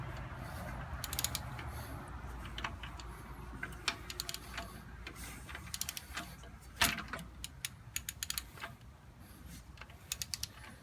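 Ratcheting clicks and metallic creaks as the crankshaft of a Ford 2.3 Turbo engine is turned by hand during timing belt work, close and fairly quiet, in irregular bursts with sharper clicks toward the end.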